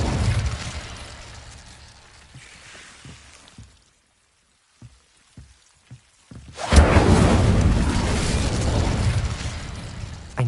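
A fiery Incendio spell is cast in the Hogwarts Legacy video game, a sudden loud whooshing burst after a silent pause with a few soft pops, followed by a sustained roaring crackle of flame.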